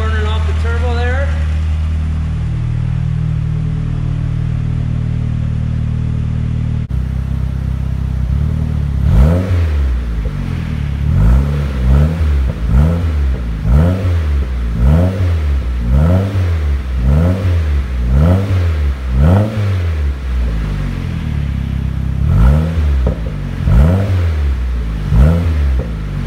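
A fully built Mazdaspeed 6 with a PTE 6062 turbo runs at idle on its first start-up, with oil burning off the turbo, then revs in a steady series of sharp, loud, close throttle blips.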